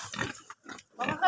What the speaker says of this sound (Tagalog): May Baboy Ramo.